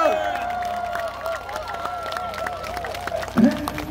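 Audience applause and cheering from a crowd at an outdoor festival concert by a trot singer at the Gimhae Korean beef festival, a broad steady wash of clapping with a sung or amplified voice tones layered over it.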